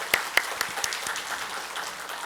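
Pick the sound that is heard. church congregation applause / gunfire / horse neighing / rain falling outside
church congregation applause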